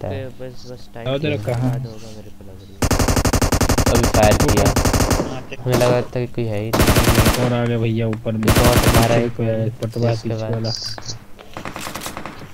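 Bursts of automatic gunfire crackle through a BGMI mobile battle royale match, with long rapid volleys and short sharp shots mixed with excited players talking over the action.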